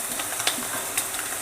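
Green chillies, carrot, cabbage and capsicum stir-frying with beaten eggs for egg fried rice, a close hissing sizzle with a few sharp scrapes and clicks of a spatula in the pan.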